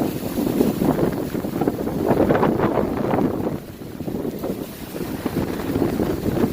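High wind gusting against a portable garage from Harbor Freight, a loud, steady broadband roar with gusty swells that dips briefly in the middle before building again, with no talking.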